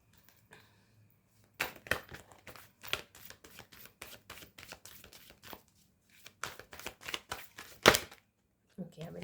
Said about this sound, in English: let me pull out some more oracle cards for you